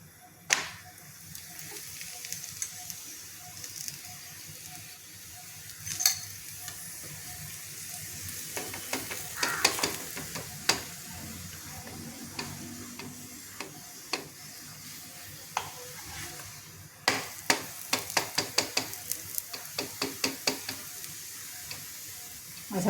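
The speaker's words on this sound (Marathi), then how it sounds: "दोन्ही साईडने तेल लावून भाजायचा तो" Hurda (tender sorghum) paratha roasting in plenty of oil on a pan, a steady low sizzle and crackle with scattered sharp ticks as it is pressed, growing busier toward the end.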